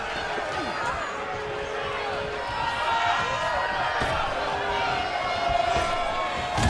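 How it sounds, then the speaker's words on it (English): A packed wrestling arena crowd roars and cheers steadily throughout, a dense continuous wash of voices with shouts rising over it, loud and close. "this crowd is loving it"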